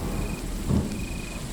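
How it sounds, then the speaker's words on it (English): Rain and a low rumble of thunder from an animated camp show, a steady wash of rainfall with a brief deep roll midway, heard alone at moderate level. "Great. It's raining."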